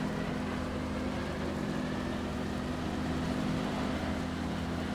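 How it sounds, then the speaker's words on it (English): A tractor drives through a barley field, its engine a steady, even drone with a constant hum that holds without a break and no talking. "I'm just really loving the power that this tractor's got compared to the 6460"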